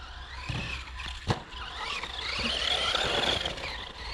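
Car braking hard, with tires skidding and squealing. A sharp thump comes early, then a rising high-pitched squeal builds over the last couple of seconds at moderate distance.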